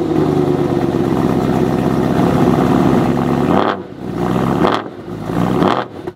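Supercharged BMW M3, previously wrecked, on its first drive: a loud, close engine drone holding steady for several seconds, then dropping off and surging again in two or three revving bursts with brief dips between.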